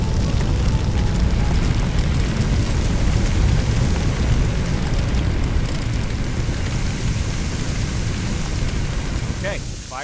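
Water being sprayed onto a fire in the Firefighting Simulator video game, a loud, steady rushing hiss like heavy rain that fills the whole stretch and eases slightly near the end.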